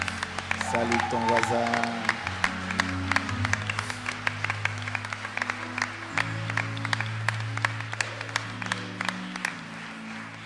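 A church congregation applauds during a service: steady group clapping with sharp individual claps standing out, under a voice speaking and sustained keyboard or organ notes.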